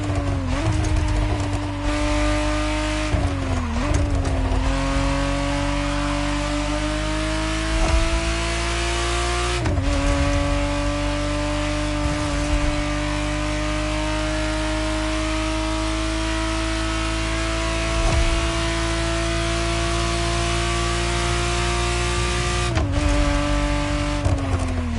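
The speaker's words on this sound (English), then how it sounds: "the exact model Motorfest has put in your hands is the 1991 re-engineered version of the Testarossa, introduced as the 512" A 1991 Ferrari Testarossa 512 in The Crew Motorfest revs loudly and steadily, its engine note climbing and holding with a few brief dips as gears shift, strong and close throughout with no talk over it.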